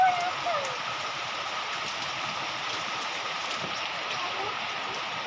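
Steady rain pours down during a storm on a flooded street, a continuous broadband hiss of drops on surfaces that holds at an even level throughout, with no clear voices over it.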